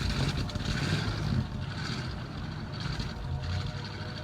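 The Ectomobile starts up in the Driving Empire video game, a low rumbling engine idle that stays fairly quiet and steady, with no talking.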